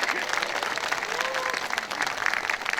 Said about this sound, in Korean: 다시 한번 환영의 박수 부탁드릴게요